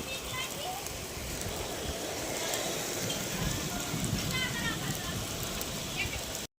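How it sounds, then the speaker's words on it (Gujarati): Heavy rain with hail falls outdoors as a dense, steady roar of drops striking surfaces. A voice talks over it throughout. "વરસાદ બહુ પડે"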